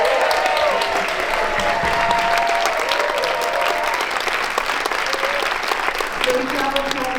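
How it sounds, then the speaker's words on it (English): Audience round of applause at an indoor panel discussion event, steady dense clapping sustained throughout with a few whoops and voices mixed in. "Round of applause once again"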